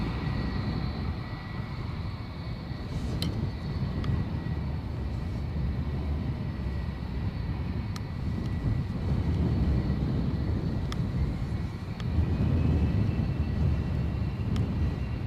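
Dassault Falcon 7X business jet, a steady broad engine rumble and whine held at moderate distance throughout, with a few faint clicks.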